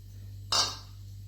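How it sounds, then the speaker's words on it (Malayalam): A single quick clink as raw mango pieces drop into a small mixer jar, short, near and fairly quiet against a steady low hum. "ഇനി നമുക്കൊരു മിക്സിയുടെ ജാറിലേക്ക് ചെറിയ ജാറിലേക്ക് ഈ മാങ്ങ ഇട്ട് കൊടുക്കാം"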